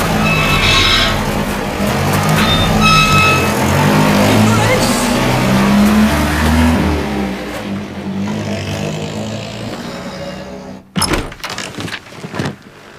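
A car engine idles and pulls away with a low rumble beneath people talking, followed by a few sharp knocks and thuds near the end.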